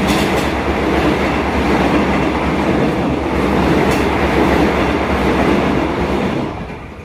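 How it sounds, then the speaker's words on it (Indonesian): An electric KRL commuter train rumbles past close by near Kalasan station, Indonesia, loud and steady, wheels clattering and thumping on the rails before the roar begins to fade at the end. "pas saya ngerekam itu kok KRL lewat kok jeduk gitu suaranya"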